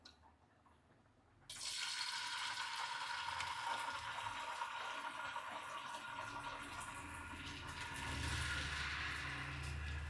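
Fish sizzling in oil in a large pan; after a quiet start the frying crackle begins abruptly and holds as a dense, steady hiss, close and alone.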